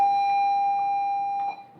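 School bell going off by mistake in a classroom, a single steady electronic tone held loud for about a second and a half before cutting off, with faint room noise and no talking.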